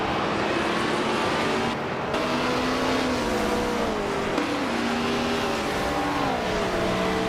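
Several race cars in a video game roar along together, engines droning steadily with pitch sweeps as they shift and accelerate, continuous and loud, with no speech.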